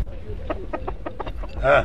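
A rooster gives a rapid series of short clucks, building to a louder final call, close by.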